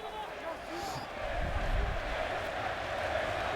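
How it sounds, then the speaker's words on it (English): A packed arena crowd at the O2 Arena roars and swells behind a home fighter during a mixed martial arts bout, the dense rumbling cheer rising midway and holding steady. "The crowd getting behind their home fighter here at the O2 Arena."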